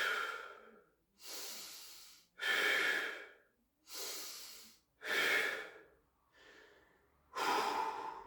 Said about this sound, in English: 4 deep breaths.